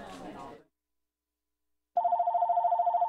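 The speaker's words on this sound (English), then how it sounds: "It all starts, if you're a victim, with a phone call." A telephone rings after a short burst of speech and a silent gap. The warbling electronic ring comes in loud and steady, pulsing rapidly until the end.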